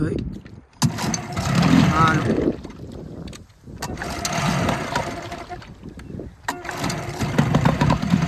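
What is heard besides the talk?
fishing boat engine being started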